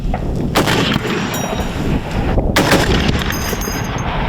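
Heavy machine gun fire from a remote-controlled Shablya robotic turret booms close and loud, several powerful single shots ringing out with rumbling echoes between them.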